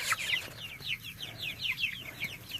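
Chickens cluck and chirp while eating apples in a steady run of short, bright calls, close by, with a faint low background rumble.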